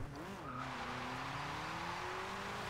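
A Toyota Celica GT drift build in Forza Horizon 2 pulls away in second gear, its engine tone dipping then climbing steadily under a continuous tire squeal, loud and close throughout.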